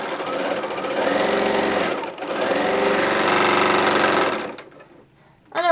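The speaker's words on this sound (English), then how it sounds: "I'm just going to adjust my stitch length. I'm going to make it about 3, only because I typically do on heavier fabric." A Bernina L850 serger runs at a steady, fast mechanical hum while stitching heavy fabric, briefly slowing midway, then stopping, followed by a short rattle at the end; close and loud.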